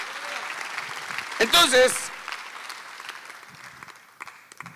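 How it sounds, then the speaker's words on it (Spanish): Audience applause at a church event, a broadband wash of clapping running throughout at moderate level, with a brief louder burst of voices and cheering partway through and a speaker's voice coming over it. "dale otro aplauso a Rey"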